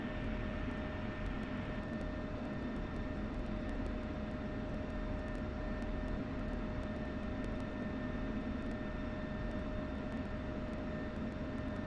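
The engine of an F-16C jet in a flight simulator game drones as a steady, dense roar with a constant tonal whine, unchanging and continuous throughout, with no voices.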